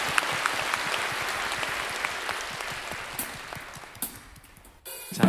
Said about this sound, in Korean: 자, 그분께 박수하고 바로 찬양합시다.